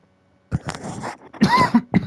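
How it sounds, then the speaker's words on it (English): A few close, rough coughs in quick succession after a moment of silence, with some throat-clearing mixed in. "This cough has just kicked back and it's just giving me a headache."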